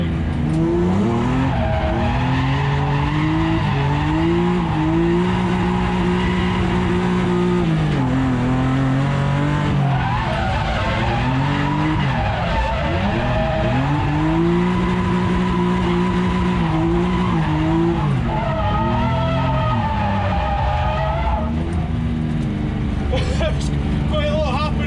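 BMW E36 M3 on a track, handbrake flicked into a drift, engine revving hard and tires squealing through long sustained slides, loud and close from inside the car, with talk over it.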